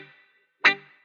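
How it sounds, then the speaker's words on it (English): A quick reggae chop on electric guitar through a wah-wah pedal: one short, sharp, treble-heavy stab that decays fast, following the faint tail of an earlier chord and ending with the start of another strike. "I'm also using a wah-wah pedal to give it more treble"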